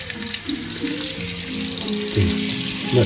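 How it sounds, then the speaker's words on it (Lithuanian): Beef shanks fry in a pan in a mix of fat and oil, a steady hissing sizzle with watery crackle. It holds close and fairly loud with no voices. "Ir dabar kepsime iki aukso spalvos"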